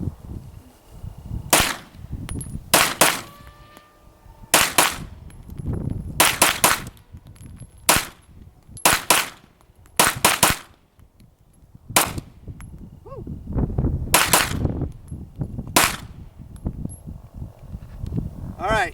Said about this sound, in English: I'm trying to get used to the trigger on this thing